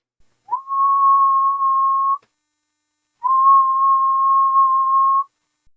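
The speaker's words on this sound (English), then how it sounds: "Now I'm whistling there" A person whistles into a microphone: two long, steady, pure-toned notes, each about two seconds, separated by a brief silence, loud and close with no talking.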